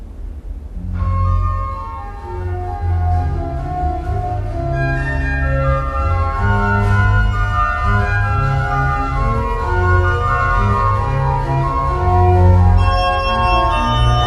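A church pipe organ plays a slow passage with a light registration of few stops, sustained chords and a bass line ringing clearly with no voices.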